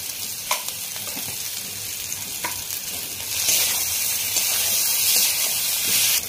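Garam masala goes into a hot pan of boroli fish curry, a steady loud sizzle and hiss of frying oil with a few small taps, and the crackle swells noticeably brighter partway through.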